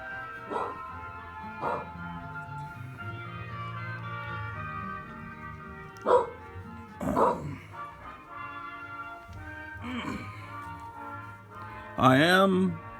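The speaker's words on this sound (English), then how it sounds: "let's feed Drew the dog." A dog barks several times in short, separate yips and woofs spread across a quiet indoor scene on a Christmas morning in a hotel, with a few louder barks near the end.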